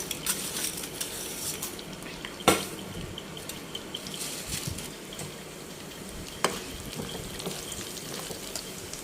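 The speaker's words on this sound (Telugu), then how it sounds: "పోపు దినుసులు వేసుకున్నాం" Steady crackling sizzle of tempering spices and dried red chillies frying in hot oil for tamarind rice, with two sharp pops standing out briefly, no voices.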